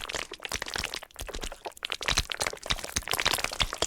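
Honey-themed keyboard key sounds from a Roblox jumping tower game come in a dense run of crisp, sticky clicks and crackles, close and continuous with no talking.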